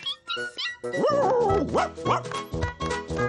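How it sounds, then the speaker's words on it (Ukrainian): A cartoon dog barks and yips in a rapid, excited series of sharp, pitched woofs, close and loud, with a short voice at the start. "Гляньте, а це мій пес."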